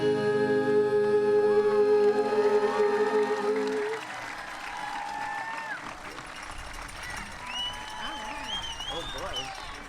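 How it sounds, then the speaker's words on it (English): Applause for musicians at a high school graduation ceremony, a crowd clapping steadily at moderate distance, with sustained musical tones fading out early and indistinct voices and whistles rising afterward. "Let's have one more round of applause for those fine musicians"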